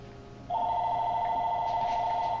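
A telephone rings in a house, a steady electronic trill that starts suddenly and continues without a break, sounding somewhat distant, as if from upstairs.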